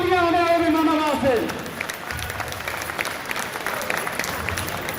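A crowd at an outdoor volleyball tournament ground claps steadily and loudly after a drawn-out shouted voice over a loudspeaker fades, the applause continuing as a dense wash to the end.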